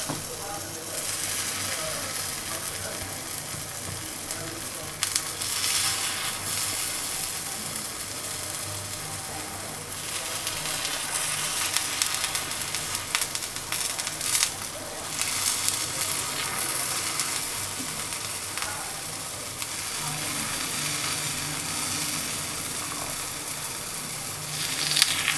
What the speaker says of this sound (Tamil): இப்போ பணியாரத்தை பரட்டி விட்டுக்கலாம்.